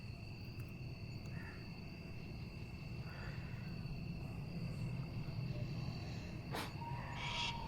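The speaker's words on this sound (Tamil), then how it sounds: "உள்ளே போக போக இந்த பூச்சி ஒன்று சவுண்டு கொடுத்துக்கிட்டே இருக்குது." A steady high insect drone sits over a dense forest hum, with faint scattered calls breaking in now and then.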